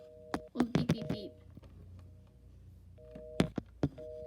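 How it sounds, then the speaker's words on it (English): Busy signal from a 1980s French-style rotary phone, two-tone beeps heard in short bursts from the handset, faint and intermittent, broken up by sharp handling clicks and a brief voice. "it's making the busy signal"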